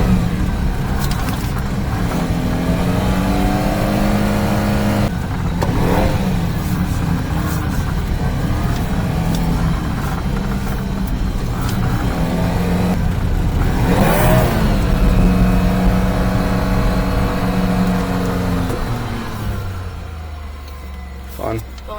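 Mini truck engine revving and whirring as it drifts in four-wheel drive on a slick mountain trail road, loud and close throughout, with a person talking over it and the engine easing off near the end.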